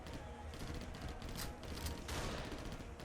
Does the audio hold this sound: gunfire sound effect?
yes